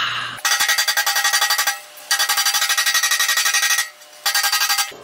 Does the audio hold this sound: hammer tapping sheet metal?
yes